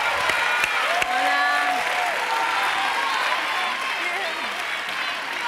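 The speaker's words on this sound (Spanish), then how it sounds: "Recibimos con un fuerte aplauso" Steady applause from a studio audience at an Operación Triunfo gala fills the clip, with a few voices calling out over the clapping.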